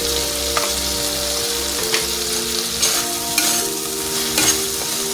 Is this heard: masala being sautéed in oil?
yes